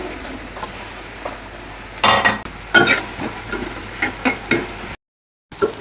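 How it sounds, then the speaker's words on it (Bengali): Green chilies frying in hot oil in a kadai, bursts of crackling sizzle and spatter with stirring clinks, close and loud, briefly cutting to silence near the end. "শুকনো মরিচ ছিল না যেহেতু, তাই কাঁচা মরিচ দিয়ে আমি ভাজতেছি"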